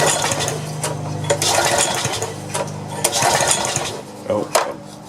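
A DR gas brush trimmer engine cranks and sputters, running roughly with uneven surges and clanks as someone talks over it nearby.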